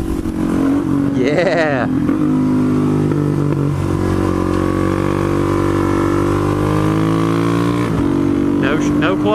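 A supermoto motorcycle engine roars loudly and up close while wheelieing, shifting from third to fourth without the clutch and holding a sustained rising drone. A brief voice is heard near the start.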